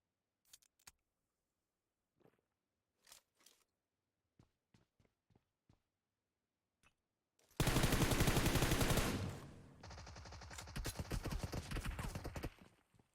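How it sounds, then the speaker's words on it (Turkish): PUBG gunfire: scattered faint clicks and taps give way to a loud, close sustained burst of rapid automatic fire, a brief drop, then a second slightly quieter rapid burst. "Başkası mı sıkıyor? Kim sıkıyor?"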